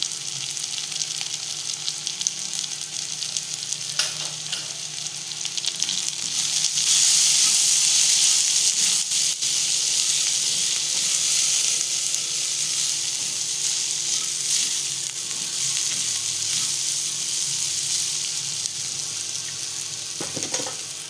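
Homemade garam masala sizzling and frying steadily in a hot pan while making a Maharashtrian matar and drumstick vegetable dish, a continuous loud crackle with some stirring, no voices.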